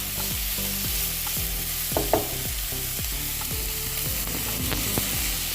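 Spice masala for boiled chicken stirred in a hot pan, a continuous sizzle broken by regular clinking scrapes of a spoon about every half second, close and clear, no talking.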